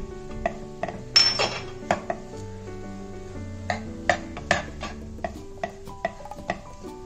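Potato masala stuffing is mixed with fresh coriander in a pan, with a quick series of metallic spoon clinks and scrapes against the pan, some louder knocks, and no voices.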